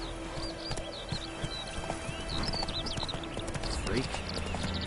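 The horse Roach gallops in a video game, its hooves clip-clopping in a steady rhythm alongside game bird chirps, while a person talks over it.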